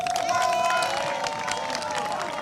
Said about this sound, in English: give themselves a round of applause because they're in the final